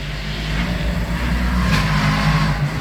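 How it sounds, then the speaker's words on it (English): A Lexus GT race car at Virginia International Raceway rumbles up from behind, its engine a loud, steady mid-pitched drone that swells slightly as it closes in. "Oh, there's a car coming up behind me. It's one of the Lexuses."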